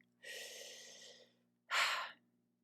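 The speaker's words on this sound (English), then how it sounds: "so let's just take a breath" One slow, deep breath drawn in through the mouth, then a shorter, stronger exhale, close and clear against a quiet background with a faint hum.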